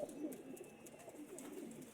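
A pigeon coos softly in low, throaty murmurs, faint and close amid quiet background hiss.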